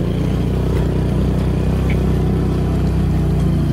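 A vehicle engine revving hard while climbing a steep, rough, damaged road, a loud, continuous, close drone with a pulsing throb and no talk.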